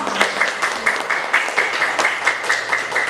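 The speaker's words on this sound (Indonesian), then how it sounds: "Silakan kasih tepuk tangan temannya dong." A classroom of students claps for a classmate, a brisk, rhythmic round of applause from a small group nearby, steady for a few seconds with little talk.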